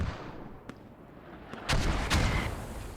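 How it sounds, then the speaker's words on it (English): Mortar rounds landing among soldiers in a tactical war game: a few sharp distant thuds, then two louder, closer explosive impacts with rumbling tails, amid light background gunfire and no talking. "And now getting mortared as well."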